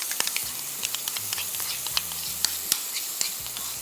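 Onion, tomatoes and tomato paste frying in a pan, a soft sizzle broken by sharp clicks and spoon taps, with a low hum underneath and no talking.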